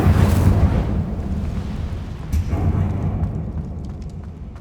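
The Incendio fire spell in Hogwarts Legacy erupts as a loud, rumbling whoosh of flame that bursts at the start and then gradually fades, with a second smaller flare midway.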